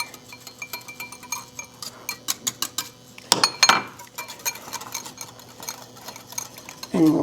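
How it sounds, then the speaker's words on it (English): A spoon clinks rhythmically against a bowl while hot pudding is stirred into whipped egg, quick regular taps with a brief scraping swirl midway, near and clear. "I'm going to stir in just a little bit of this hot pudding so that the egg doesn't cook when we put it in"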